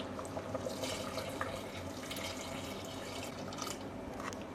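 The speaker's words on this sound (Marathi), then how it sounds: "त्यानंतर यामध्ये आपण गरम पाणी सुद्धा घालूया" Hot water poured into a pot of Koli-style mutton curry, a steady broadband splashing pour running continuously and fairly close throughout, with no voices.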